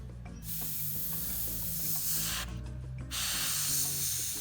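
A Harder & Steenbeck Infinity airbrush with a 0.15 nozzle sprays paint onto a 28mm Mission Models A15 Crusader tank model in two sustained close hissing bursts separated by a brief pause, over a low background hum.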